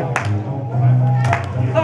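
An audience at a competition prelims claps in two short bursts, near the start and again past the middle, over a steady low hum.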